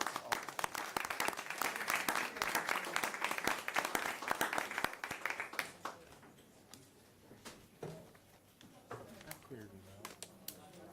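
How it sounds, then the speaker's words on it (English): Audience applause for county employees in a commissioners court chamber, dense clapping for about six seconds that then thins out and fades, with voices and room murmur continuing underneath. "Let's give them another round of applause."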